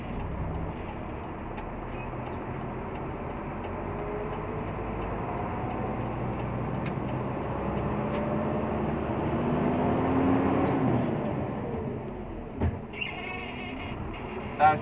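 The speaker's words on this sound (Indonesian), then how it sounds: "Kita cek suara mesin sudah halus" A Hino truck's engine, freshly overhauled, runs on a road test drive, giving a steady, even rumble throughout with a brief knock near the end.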